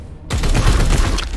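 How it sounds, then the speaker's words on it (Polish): A sudden loud gunshot blast from the video game Warhammer 40,000: Chaos Gate - Daemonhunters, followed by a dense rumbling, crackling tail. "I kolejny strzał"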